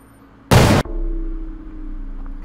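A grenade blast in a video game bursts out loud and sudden, a single broadband boom lasting about a third of a second, then settles into a lingering low rumble and hum.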